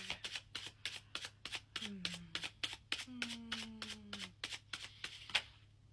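Tarot cards shuffled in a quick, even riffle of crisp snaps repeating about every third of a second, close and quiet, with faint whistled tones under the flutter.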